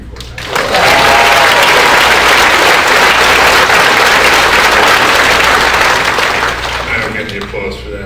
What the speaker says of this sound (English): I don't get the applause for that, Mrs. Bennett does.